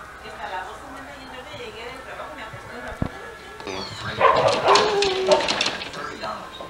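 A dog barks and whimpers with yips in a domestic setting. People talk throughout, and the barking grows louder toward the end.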